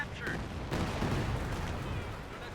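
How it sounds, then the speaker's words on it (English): A creeping artillery barrage in Company of Heroes 2 sends rumbling blasts and crackling bursts of fire across a battlefield, dense and loud with a brief sharp crack early on. "he's lucky that it was a creeping barrage"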